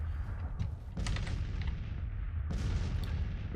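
Six-pounder cannons fire in a Grand Tactician Civil War battle, booming blasts landing around one and two and a half seconds over a steady rumbling battlefield din, loud and close.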